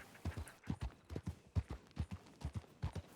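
Video-game horse hooves clip-clop at a steady riding gait, a run of about fifteen crisp, evenly spaced hoof falls, fairly quiet and close, with no voices over them.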